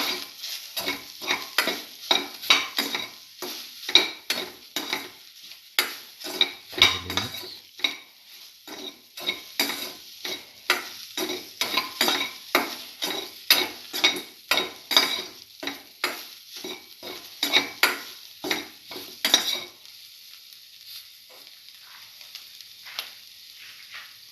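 Soy chunks with cinnamon powder get mixed in a pan, a spoon scraping and tapping in a steady rhythm of close, crisp strokes over a light sizzle, the stirring stopping near the end.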